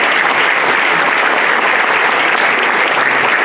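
Loud, dense audience applause at a political event fills the whole stretch without a break, a steady wash of many hands clapping at once with no voices rising above it.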